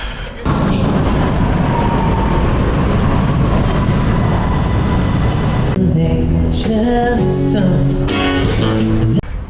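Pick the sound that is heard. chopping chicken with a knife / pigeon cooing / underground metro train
underground metro train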